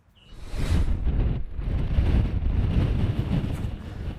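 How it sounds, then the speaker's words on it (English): Strong wind buffets the microphone on the Tug Hill Plateau in Lewis County, New York, during an ATV ride, a loud, steady low roar that swells in after a brief quiet start and holds with no talking. "the wind is whipping"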